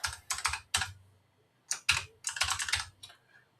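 Bursts of typing on a computer keyboard while writing a Python login check, with quick clusters of key clicks separated by short pauses, fairly close and clear.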